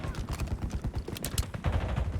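Gunfire in Call of Duty Warzone, a sniper shooting from a distance, heard as rapid clattering bursts and sharp cracks layered over a busy game soundscape.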